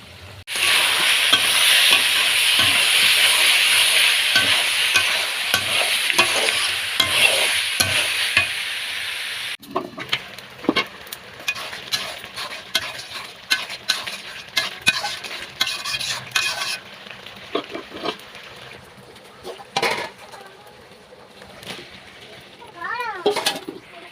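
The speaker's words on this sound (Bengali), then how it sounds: "মাংসগুলো প্রায় আধা ঘন্টার মতো কষিয়ে নেব" Meat stir-fried in a pan sizzles strongly for about ten seconds, then fades into scraping and clattering of a spatula against the pan, with people speaking intermittently over it.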